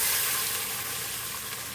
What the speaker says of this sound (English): And start sauteing them.